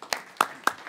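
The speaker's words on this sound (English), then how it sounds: "Give her another round of applause." A few sparse, separate claps from a panel discussion audience, three sharp hits spaced roughly a quarter second apart, near and moderately loud with no voices.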